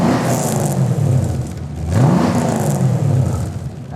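A restomod Datsun 240Z with an EFI engine starts up and settles into a running idle, then revs in two rising sweeps, loud and close, with a steady rumble under a whirring top.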